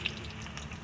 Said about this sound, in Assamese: এয়া মই মিহিকৈ কাটি লোৱা পিঁয়াজটো তেলত দি দিছোঁ আৰু ইয়াক অকণমান ৰঙা হোৱালৈকে মই এতিয়া ভাজিলোঁ